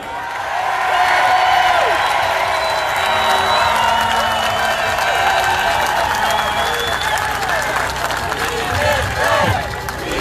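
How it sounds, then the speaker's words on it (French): Sustained applause and cheering from a protest crowd outside the Sûreté du Québec headquarters in Montreal, clapping police officers; loud, dense and continuous throughout, with scattered shouts and voices mixed into the crowd noise. "Je pense qu'ils sont contents, les policiers, là, de se faire applaudir comme ça"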